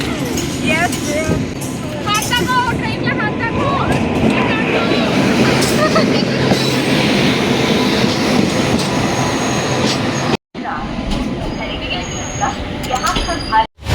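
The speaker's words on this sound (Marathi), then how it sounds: "ट्रेन येते मागून." A train rumbles and clatters past close by, loud and continuous, with squealing wheels and people talking over it.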